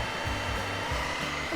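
An AIRBOT CV100 handheld vacuum cleaner runs with a steady, close, loud motor whine and airflow roar, its pitch wavering slightly, alone with no talking.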